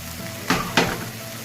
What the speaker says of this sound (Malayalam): ഇനി ഇതിലേക്ക് നമുക്ക് മാരിനേറ്റ് ചെയ്ത് വെച്ചിരിക്കുന്ന ചിക്കൻ ഇട്ട് കൊടുക്കാം